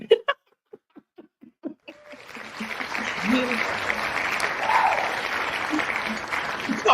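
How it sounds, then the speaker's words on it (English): Audience applause at a business talk, rising after a few isolated voice sounds and then holding as a steady wash of clapping with faint laughter mixed in. "Give that man a round of applause."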